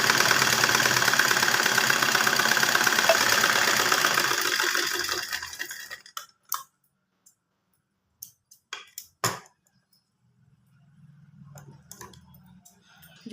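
A sewing machine puts a reinforcing line of stitches across the back pocket of an elastic-waist pant. It runs in a fast, steady mechanical rattle for about six seconds, then stops, leaving a few isolated clicks and a faint low hum.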